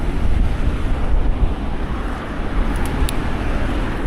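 Strong wind roaring across the microphone while cycling at night in the cold, a constant loud rushing buffet with no talk.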